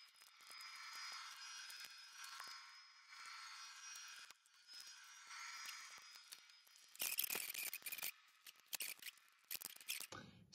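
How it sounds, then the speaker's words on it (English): Scissors snip through a plastic container holding a graded Yu-Gi-Oh trading card, a run of sharp, close cutting strokes that turns denser and louder toward the end, with no talking. "So I'm gonna have to cut this out of this plastic container"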